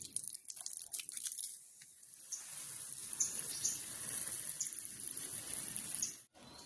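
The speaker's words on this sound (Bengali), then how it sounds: "আমি জল দেবো গাছে" Water is poured onto a garden plant, making a soft, steady splashing hiss with light crackles mixed in. The sound is close but fairly quiet and ends with a brief drop.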